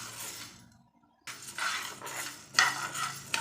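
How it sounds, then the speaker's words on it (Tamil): Urad dal being dry-roasted in a pan for idli podi, with scraping stirs and a metal utensil clinking against the pan in short bursts, a brief lull midway, no talking. "உளுத்தம்பருப்பு நல்லா கலர் திரும்பணும், அந்த அளவுக்கு வறுத்துக்கலாம்."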